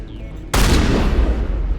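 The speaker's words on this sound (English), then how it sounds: "Oh my god, shotgun is too good." Shotgun fired in Mass Effect, a single heavy blast with a sudden loud onset and booming low-end decay, close up over ambient game noise.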